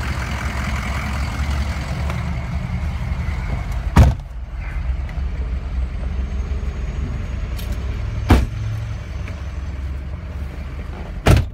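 A 2004 Ford F250 Lariat crew cab 4x4 pickup rumbles along on a test drive, a steady low engine drone inside the cab broken by three sharp thumps from bumps in the road.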